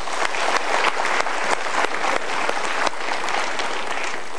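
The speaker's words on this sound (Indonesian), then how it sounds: "Kita berikan tepuk tangan dulu." A studio audience at a Mario Teguh Golden Ways motivational talk show applauds in a dense, steady burst of many hands clapping at once, close and full, running throughout with no voices over it.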